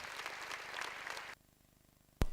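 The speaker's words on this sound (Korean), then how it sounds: "공연은 관람자들의 박수갈채를 받았습니다" Audience applause after a students' and children's stage performance, a dense wash of clapping for over a second that cuts off abruptly, followed by a brief sharp click.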